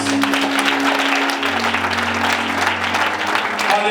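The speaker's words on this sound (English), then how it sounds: "Let's clap our hand for Jesus" A church congregation claps hands steadily and energetically throughout, dense and close, over a sustained low keyboard drone.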